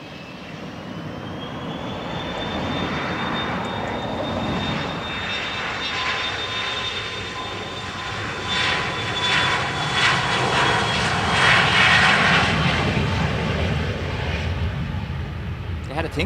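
Aircraft engines at Dublin Airport rise steadily in a broad roar as a plane begins its takeoff roll on runway 10 right, starting gently before building power, with a whining tone on top and faint talk mixed in.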